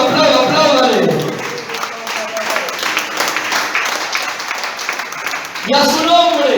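A church congregation applauds during a Spanish-language service, with a broad wash of clapping and crowd noise running throughout while a loud voice speaks over it at the start and again at the end.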